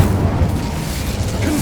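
The Incendio fire spell is cast in the video game Hogwarts Legacy, giving a loud, low rumbling whoosh of flame that holds steadily for a short burst.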